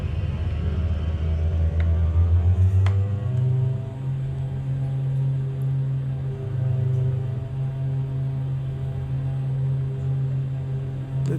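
Twin turboprop engines of an Embraer EMB-110 Bandeirante in Microsoft Flight Simulator 2020 hold a steady, loud, droning rumble during the takeoff roll, with a strong low tone that swells slightly, alone without talk.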